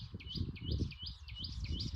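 Sparrows in a forest in Gujarat chirp repeatedly in short high tweets, fairly close, over a steady low rumble of background noise.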